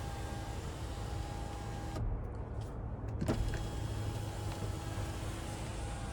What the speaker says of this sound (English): And then we can tilt or slide the sunroof back.